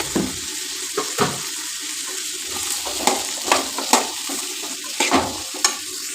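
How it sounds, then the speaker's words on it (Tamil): Onions and masala sauté in a pan for mutton curry, giving a steady close sizzle broken by repeated scraping stirs of the spoon across the pan, with no talking. "இது அப்படியே நல்லா வதங்கணும்"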